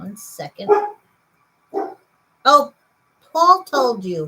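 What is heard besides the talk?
dog barking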